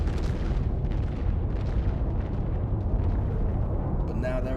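Heavy weapon hits explode in a space combat game, a dense continuous rumble of booming blasts filling the whole stretch, loud and overlapping with no clear gaps.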